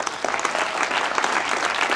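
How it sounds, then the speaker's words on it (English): Audience applause after a talk, dense steady clapping from a crowd that holds evenly at full strength for the whole two seconds, with no voices over it. "how about a round of applause?"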